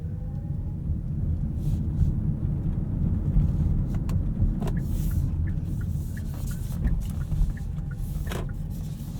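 A 2019 Kia Niro EV EX Premium electric car drives along, heard from inside as a steady low road and tyre rumble with faint whine, no engine note, and a few soft clicks.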